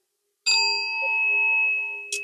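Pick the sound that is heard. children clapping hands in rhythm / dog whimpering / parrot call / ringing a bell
ringing a bell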